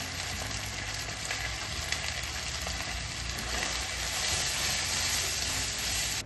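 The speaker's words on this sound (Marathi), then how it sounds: "इथे मी सावजी मसाला घालते आहे" Saoji masala for a Nagpur-style egg curry frying in a pan, a steady dense sizzle that holds even throughout and swells slightly louder toward the end, with no voices.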